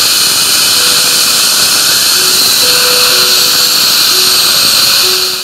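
Loud, high-pitched whine of a dental drill running steadily, with faint pitch shifts, close and continuous throughout.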